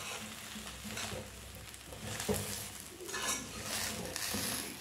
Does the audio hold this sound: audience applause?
no